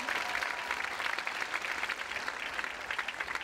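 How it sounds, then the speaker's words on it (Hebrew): Steady, dense applause from the audience at a youth dance school's end-of-year show, a continuous even wash of many hands clapping, heard somewhat distantly with no voices over it. "מגיע למחיאות כפיים."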